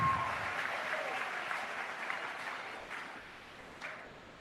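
A stadium crowd roars and applauds at a women's international football semi-final at Rizal Memorial Stadium, a dense, sustained wash of cheering that swells at the start and then eases slightly.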